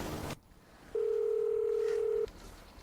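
A steady single-tone phone signal sounds for about a second, loud and unbroken, with no one answering.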